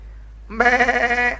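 A human voice imitates a goat's bleat with one short, wavering, nasal call that sounds close and fairly loud and ends abruptly after about a second.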